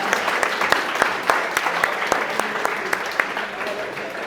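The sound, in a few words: audience applause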